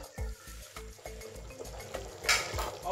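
Chicken curry simmering in a pot, with steady bubbling and soft repeated stirring and clinking of a utensil against the vessel, close and fairly quiet.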